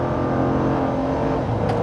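A pickup truck engine accelerates while towing a 3500 kg load, heard from inside the cab as a steady, loud, continuous drone with no talking.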